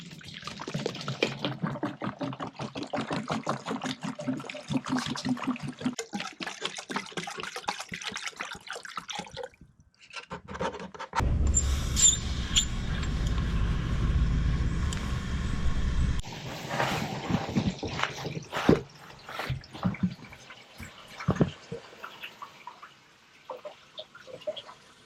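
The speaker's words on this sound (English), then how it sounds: "I'm going to go ahead and turn some water on, run the engine to operating temperature" A marine inboard engine runs with a steady rumble while its cooling water splashes and gurgles, the flow surging louder partway through, then settling into clattering mechanical noise.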